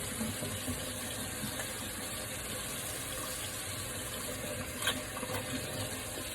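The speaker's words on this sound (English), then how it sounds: "I'm going to wash my hands off." A kitchen tap runs steadily while greasy hands are washed under it, giving a constant close rush of water with small splashes and clinks, no talk.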